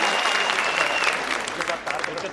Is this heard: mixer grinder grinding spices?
no